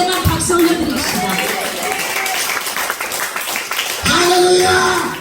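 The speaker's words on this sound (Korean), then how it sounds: "Greatly clap your hands to Jesus." A church congregation at a revival prayer meeting claps hands together, a sustained dense patter that runs throughout beneath music and voices and swells again near the end.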